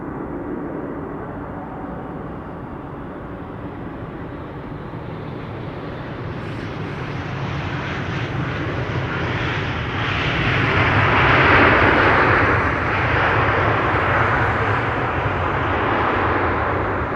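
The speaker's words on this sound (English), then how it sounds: "This is KLM flight 592 arriving from Johannesburg, South Africa. 777-200 10 hours and 50 minutes underway." A KLM Boeing 777-200 airliner, twenty years old, landing at Amsterdam Schiphol after a long flight from Johannesburg: a loud, steady jet engine roar that builds and swells toward the middle and stays broad and close, with no talk.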